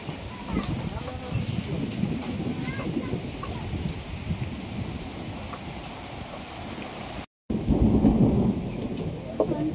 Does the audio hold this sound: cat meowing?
no